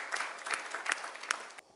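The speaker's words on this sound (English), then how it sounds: "Round of applause, Dr." Audience applause at a business festival, a short burst of scattered hand claps with distinct louder claps standing out, moderately faint, cutting off abruptly at the end.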